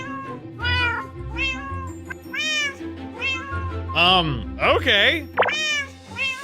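A Minecraft cat meows repeatedly, several distinct rising and falling calls in close succession, with a short spoken word mixed in among them.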